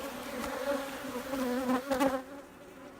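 Honeybees swarm an open frame of new comb from a queen castle hive, filling the air with a steady, close droning hum that swells and dips slightly over three seconds, with no talking.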